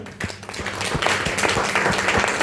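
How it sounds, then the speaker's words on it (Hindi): Audience applause follows praise for a company MD at a Hindi-language gathering, a steady crowd clapping that builds and holds at an even loudness throughout. "एक जोरदार तालियां होनी चाहिए।"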